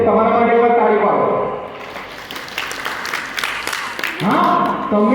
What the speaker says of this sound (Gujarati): એટલે તમારા માટે એક તાળી પાડો.